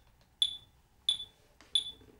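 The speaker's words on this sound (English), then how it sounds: "We're going to have the metronome for that" A metronome gives three sharp, evenly spaced clicks in a steady beat, bright and isolated against near silence.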